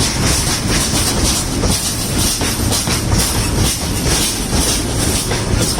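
A moving train rumbles and rattles steadily at close range, with dense wheel clatter and faint squeals throughout and no speech.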